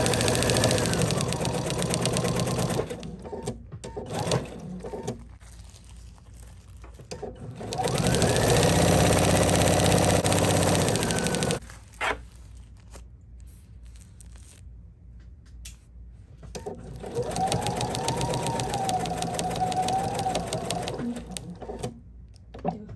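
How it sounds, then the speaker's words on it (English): A sewing machine stitches plush So Lush fabric in rapid mechanical bursts. Two louder runs of steady whirring are separated by quieter stretches of slower stitching. "It's just sewing a little slower than the other fabric."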